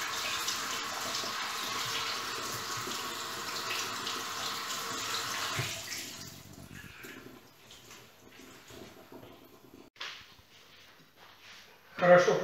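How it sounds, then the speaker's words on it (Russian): Cold tap water runs steadily into a sink for several seconds while rinsing pearl barley, then stops, followed by quieter handling noises and a short splash near the end. "промываем перловку обязательно холодной водой"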